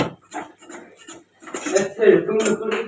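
Metal utensils clatter and scrape against an iron griddle while making patishapta, a series of close clinks and knocks that grow busier toward the end.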